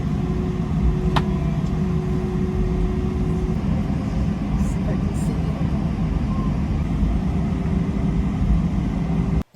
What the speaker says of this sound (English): And then it just seemed like we were taxiing all over the place.